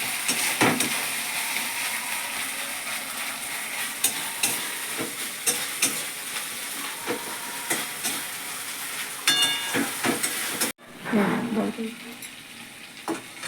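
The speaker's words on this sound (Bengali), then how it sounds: "সব মশলা তেলগুলো সুন্দর করে ভালো করে ফ্রাই করতে হবে" Spices frying in oil for a home-cooked chicken curry, a steady close crackling sizzle with frequent scraping stirs of a spoon in the pan, briefly cut near the end before resuming.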